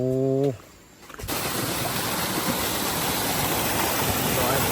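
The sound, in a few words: waterfall on a jungle river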